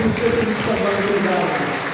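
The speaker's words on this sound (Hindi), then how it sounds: "इनके लिए भी ताली बजा दीजिए" An audience at a Hindi-speaking gathering applauds for Sanjeev Mishra, producing a dense, continuous wash of clapping at steady, fairly loud volume with no break.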